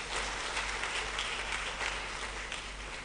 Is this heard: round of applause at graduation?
yes